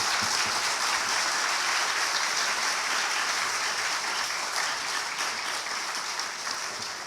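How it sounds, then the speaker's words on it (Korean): Sustained warm applause from a church congregation welcoming the senior pastor during a Sunday afternoon service, loud and even throughout with no talk over it. "우리 뜨거운 박수로 담임 목사님 모시도록 하겠습니다."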